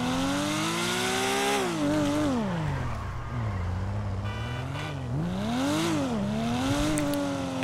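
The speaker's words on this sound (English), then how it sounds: "I've also added a custom exhaust sound." Custom exhaust note on a Porsche 911 in GTA 5, the engine revving up and down repeatedly in a rising and falling wail as the car is driven back and forth, loud and sustained with no talk.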